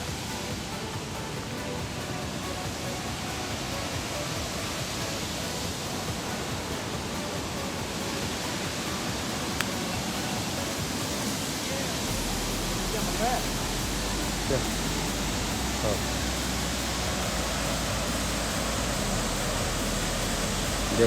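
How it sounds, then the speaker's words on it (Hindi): Steady broadband rush of water at Devdhara waterfall in Chhattisgarh, continuous and even throughout with a low rumble joining partway. "देख सकते हो कितना सुंदर वाटरफॉल है।"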